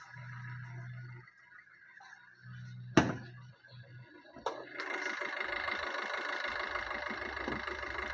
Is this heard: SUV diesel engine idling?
yes